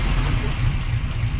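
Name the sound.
1953 Oldsmobile Rocket Super 88 engine running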